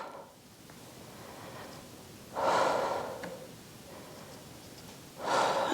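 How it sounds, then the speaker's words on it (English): Two forceful exhales out through the mouth during a Pilates reformer stretch, each a breathy rush of air spaced a few seconds apart, close and fairly quiet against a soft background. "breathing in through the nose, out through the mouth"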